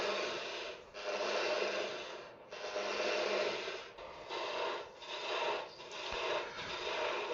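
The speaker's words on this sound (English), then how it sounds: "The bevel directs it and peels away the shavings. The side grain shavings are peeled away." A turning tool peels side-grain wood shavings on a lathe while a wand is shaped, giving a steady close rasping, scraping sound in several long passes with short breaks between them.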